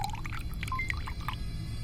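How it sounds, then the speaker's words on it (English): A chemical mixture is poured in the game Don't Escape 3, a steady liquid pour heard close and fairly loud, with faint bubbly, tonal blips over a low background hum. "And we pour the chemical mixture in here."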